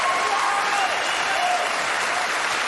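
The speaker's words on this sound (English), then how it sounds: "Some of the people ain't clapping there, George." Dense applause from a live comedy audience rolls on continuously, loud and close, a thick even wash of clapping hands with no talking over it.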